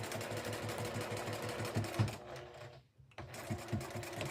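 A sewing machine stitches a belt onto a robe in fast rhythmic bursts, close and clear, stopping briefly for a moment of near silence before running again.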